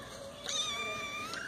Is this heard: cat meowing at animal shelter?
yes